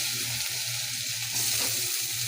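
Onions fry in hot oil in a wok, giving a loud, continuous close-up sizzle with a faint stirring scrape partway through.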